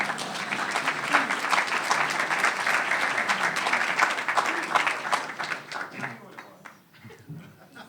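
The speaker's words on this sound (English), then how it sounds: "you can clap now." Audience applause at a 2024 State of the City address in Evanston, a dense sustained wash of many hands clapping that thins and fades toward the end.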